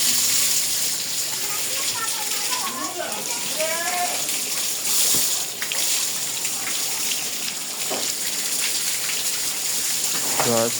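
Water splashes and patters steadily over a cow being washed in the morning, with brief gushes and drips throughout and a voice talking over it at moments.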